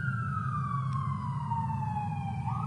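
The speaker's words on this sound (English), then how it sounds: "It's not so much because the siren's going by" An emergency siren passing by, its wailing tone sliding steadily downward in pitch as it recedes, moderately loud over a constant low rumble of background noise, with no speech.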